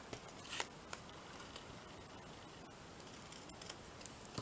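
Quiet snips of scissors, a few sharp cuts spaced irregularly against a faint hiss of room noise.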